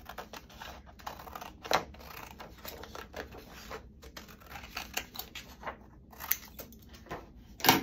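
Scissors cut out a washi tape border in a run of small close snips and crisp clicks with an irregular rhythm, and no voices are heard.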